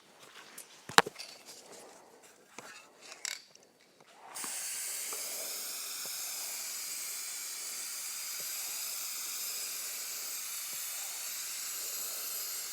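A spray can sends out a steady, loud hiss of clear matte sealant finish over a refinished junk-pile item, lasting several seconds after some light handling clatter.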